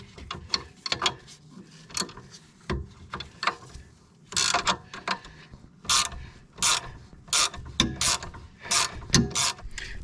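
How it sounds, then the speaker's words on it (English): Backing off a nut with a 14mm wrench during a strut replacement, a series of close metallic ratcheting clicks and clanks in irregular bursts, with a few louder scraping pulls. "Now you can just slowly back this nut off."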